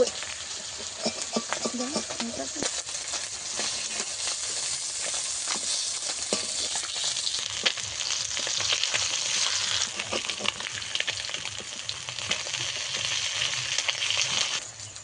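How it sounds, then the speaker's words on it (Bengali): Surpai fish frying in a spice paste in a pan, giving a steady, close sizzle and hiss throughout with occasional crackles and scraping stirs, and a faint voice now and then. "আমার মাছটা ভালোভাবে ফ্রাই করা হয়ে গেছে।"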